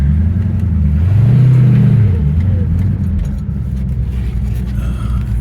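A 1966 Ford Fairlane GT with a 390 engine and four-speed manual accelerates through the gears, a loud, deep mid-frequency engine roar rising in pitch then easing off, heard from close by without talk.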